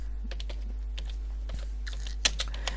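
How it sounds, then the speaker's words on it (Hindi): Keys on a computer keyboard are tapped in an irregular run of soft clicks while text is typed into a PowerPoint slide, close and fairly quiet over a steady low electrical hum, with a few sharper strokes near the end. "हम इधर लिखेंगे अल्लामा इकबाल"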